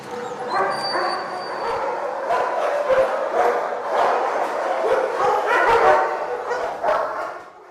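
Many military working dogs bark, yip and whimper at once in a reverberant kennel, a constant overlapping chorus that stays loud throughout.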